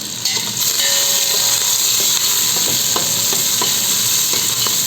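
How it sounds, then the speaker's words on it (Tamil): Steady, loud sizzling of onions and curry leaves frying in hot oil for fish curry, a continuous crackling hiss with occasional pops and light stirring clinks throughout. "வெங்காயம் பொரிஞ்சு வந்துக்கிட்டு இருக்கு, பொன் நிறத்தில் பொரிஞ்சு வந்துக்கிட்டு இருக்குது"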